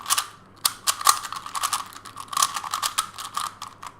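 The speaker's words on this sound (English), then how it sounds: "this cube is a lot smoother than my own. So first of all, this cube is noisier" A Gans 356 Air SM speed cube being turned by hand, with rapid, close clicky rattles of layers snapping in quick irregular bursts, alone without talk.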